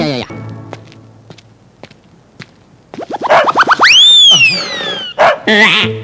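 A pet dog barks and yips among loud voices in a Telugu comedy film scene, with a springy, rising boing-like effect and shouting toward the end.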